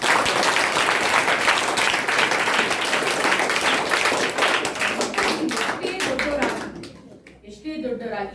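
Schoolchildren at a government primary school in Huskur clap together for their teachers, a dense, loud burst of applause that carries steadily for several seconds before tapering off near the end.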